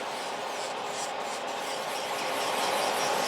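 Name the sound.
filing lifted gel nail corner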